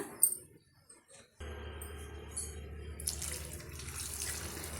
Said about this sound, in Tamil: நான் கொஞ்சம் எக்ஸ்ட்ராவே தண்ணி ஆட் பண்ணிக்கிறேன்